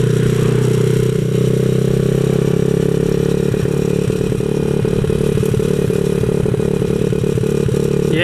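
A 127cc X7 pocket bike engine runs steadily and loud throughout while riding, a continuous buzzing drone with rattly clatter, sputtering as it struggles to reach full throttle.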